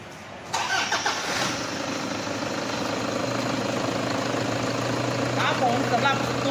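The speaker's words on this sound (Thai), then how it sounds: "ไปสตาร์ทเสียงเครื่องยนต์ให้ฟังกันก่อนนะครับ" Toyota Fortuner 3.0 diesel engine, a 2012 TRD model, cranks and starts abruptly, then settles into a steady, close diesel idle with a constant low hum.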